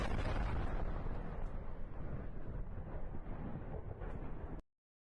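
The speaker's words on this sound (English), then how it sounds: "it's going to be a loud explosion there" A loud explosion in war footage from Ukraine, a dense roaring blast that fades gradually over several seconds and then cuts off abruptly.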